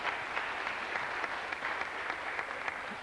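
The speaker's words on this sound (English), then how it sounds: "Give her another round of applause now." An audience at a memorial concert claps for a dancer, steady, moderately distant applause from many hands that continues evenly without pause.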